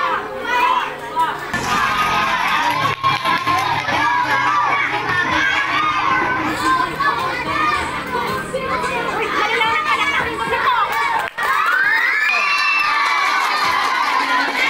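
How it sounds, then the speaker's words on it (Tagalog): A loud, dense crowd of children and adults cheers, shouts and claps continuously at a community pageant for mothers, with excited voices and chatter throughout. "Manang palakpak, kusog-kusugaw man daw."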